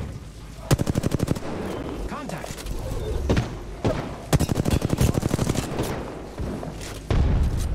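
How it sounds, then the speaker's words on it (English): Bursts of rapid gunfire from enemies in an online shooter game, several volleys of machine-gun fire with single shots between them, loud and close, while players talk over the action. "Still getting shot from up above."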